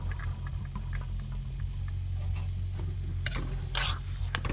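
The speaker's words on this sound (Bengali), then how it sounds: "আমি এরকম খন্তি দিয়ে নাড়াচাড়া করব যাতে মটরশুঁটিটা সিদ্ধ হয়ে যায়" Peas stirred with a spatula in a frying pan, soft scraping strokes over a low steady sizzle, with a few sharper clinks near the end.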